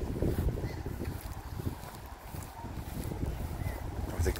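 Gusty wind blows across a high, tree-lined spot in Porto Alegre, buffeting the microphone with a constant low rumble that swells and eases in uneven surges.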